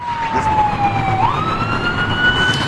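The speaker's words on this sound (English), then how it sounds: "You can hear sirens behind me." A loud wailing siren rises and falls steadily, with a second siren layered over it and faint road noise beneath, at an active police scene on a Texas highway.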